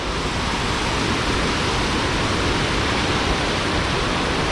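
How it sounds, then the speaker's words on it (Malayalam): Water of a stream rushes forcefully near Thommankuthu waterfalls, a dense, steady roar that stays loud and unbroken throughout, with no voices. "വെള്ളം എന്ത് ശക്തിയിലാണ് കുത്തി ഒഴുകുന്നു നോക്കിയേ"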